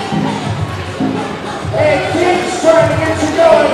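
Volleyball crowd at a Huskies home match cheering and shouting as King the Husky mascot rallies them, a broad steady roar with rising swells and some whistles, voices mixed throughout.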